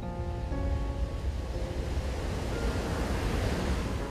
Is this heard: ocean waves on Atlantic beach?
yes